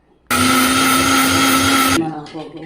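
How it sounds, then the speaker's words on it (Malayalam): A mixer grinder grinding semolina whirs loudly and steadily for under two seconds, starting abruptly and then cutting off, leaving a brief fading rattle. "ഒരു ഗ്ലാസ് റവ് എടുത്തു ഇനി അതിനെ മിക്സിയിലിട്ട് പൊടിക്കണം"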